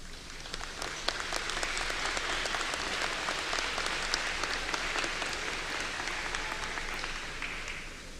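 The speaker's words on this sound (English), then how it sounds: "please stand and be recognized so that the graduates may offer you a round of applause" Sustained applause from a large audience at a summer commencement ceremony for master's degrees, a dense, even wash of clapping with occasional sharper claps, filling the hall steadily and alone without talk.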